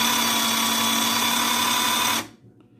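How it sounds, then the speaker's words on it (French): Electric drill running as a homemade mixer, a loud steady high-pitched motor whine held for about two seconds before cutting off and spinning down quickly. "Alors la perceuse, mon malaxeur fabrication maison."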